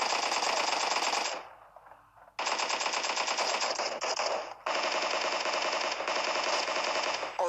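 Automatic gunfire in a video game shootout comes in loud, rapid sustained bursts with a short pause between them and no talking.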